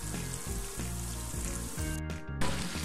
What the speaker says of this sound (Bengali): চুলার আঁচটা লো আঁচে রেখে লো হিটে দিয়ে আমি চিকেনটাকে ভাজছি